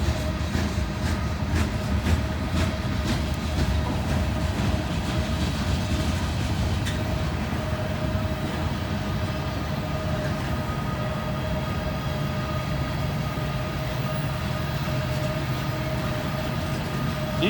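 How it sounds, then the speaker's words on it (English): Heavy freight train with DPU locomotives rolling past, a steady loud rumble of wagons with rhythmic wheel clatter, a sustained locomotive tone and occasional squeals throughout. "Now I'm hearing a DPU coming."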